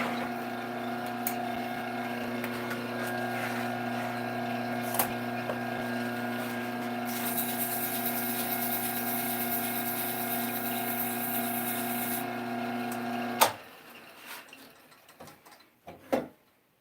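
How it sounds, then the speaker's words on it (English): A woodturning piece spins on a lathe while being sanded, giving a steady droning motor hum with a hissing abrasive layer that stops abruptly near the end, followed by a few quiet knocks. "let me sand it first"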